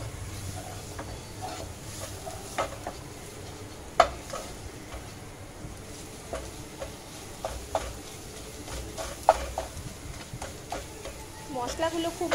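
Cumin and coriander powder frying in oil for spicy pabda fish curry, with a steady low sizzle broken by sharp clinks and scrapes of stirring in the pan.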